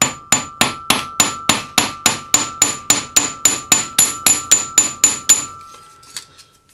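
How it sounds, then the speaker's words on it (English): A goldsmith's hammer strikes wire on a hard block to flatten it for a brooch hinge, about eighteen sharp, ringing metallic blows in a quick, even rhythm, close and loud, then silence. "we're just going to hammer this wire to half its thickness"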